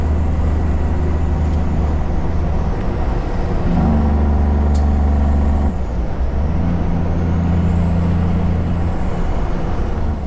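A truck passes close by on a road near Taupo, its heavy low engine rumble swelling and fading over several seconds amid steady road and wind noise, with no voices.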